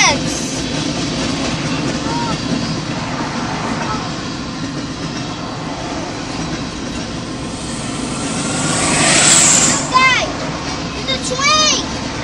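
A CSX freight train rolls past outdoors, a broad rumble of wheels and cars that swells toward the end, with excited voices talking and shouting over it.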